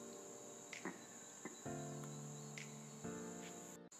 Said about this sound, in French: Et les crapauds s'en mêlèrent.